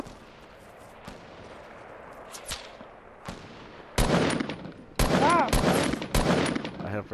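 Loud bursts of gunfire in a first-person shooter video game match, a few faint shots early on, then heavy rapid volleys from the midpoint onward, with faint voices underneath.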